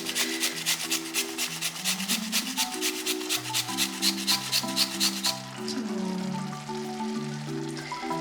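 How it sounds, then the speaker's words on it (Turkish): A carrot is grated finely against a metal grater in a home kitchen, giving steady, rapid rasping strokes that come close and fairly loud, set over continuous background music. "Böyle ince rendeliyoruz ki havuçlar biliyorsunuz normalde pişmesi uzun sürer"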